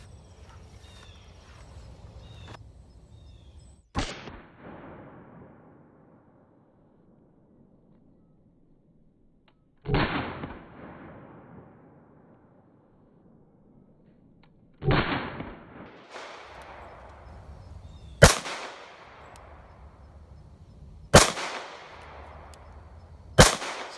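Ruger American Pistol in .45 ACP firing single shots: six sharp, loud reports spaced a few seconds apart, each ringing out briefly over a quiet outdoor background, with the later shots coming closer together.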